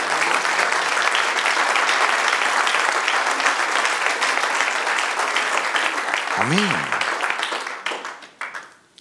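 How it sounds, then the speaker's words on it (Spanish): A church congregation applauding during a sermon, dense sustained clapping that fills the space for several seconds before tapering off, with a brief vocal exclamation near the end. "Dale un aplauso al Señor."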